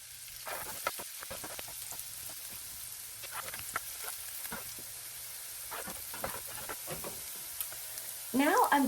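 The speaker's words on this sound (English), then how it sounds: "We're going to allow the onions to cook down for about 2 to 3 minutes." Onions sizzle steadily in a pan for a risotto, with intermittent scraping clicks of a spoon stirring them and a louder clatter of stirring at the end, no speech over it.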